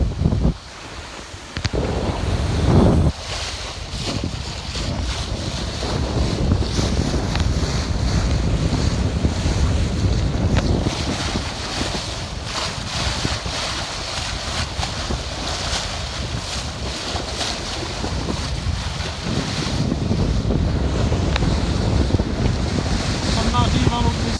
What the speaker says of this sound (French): Ça marche à fond les manettes avec 20 nœuds de vent au grand largue.